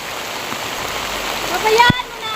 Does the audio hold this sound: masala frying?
no